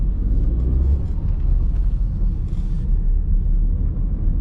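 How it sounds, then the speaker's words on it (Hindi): Steady low engine rumble from a car being driven, continuous and fairly loud with no pauses, as heard from inside the vehicle during a lesson on using the clutch, brake and accelerator pedals. "देखिए अभी गाड़ी हमारा चल रहा है"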